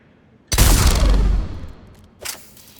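A powerful one-shot weapon fires in the video game Mass Effect 3 with a loud, heavy blast that rolls off into a long rumbling decay, followed a moment later by a shorter second shot.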